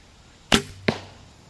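A pure carbon arrow with colourful fletching, nock and protector ring is shot, giving two sharp, close cracks a fraction of a second apart, the release followed by the hit.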